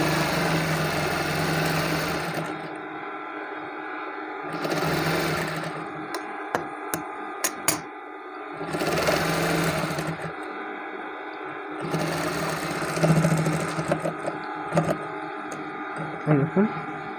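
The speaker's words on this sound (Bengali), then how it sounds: "এই যে আমি নীল অংশের পরই এই যে একটা চাপ সেলাই করছি।" A sewing machine stitches a kameez in bursts, each run of rapid whirring stitching lasting a couple of seconds before stopping, with quiet gaps and small clicks between runs and a person talking.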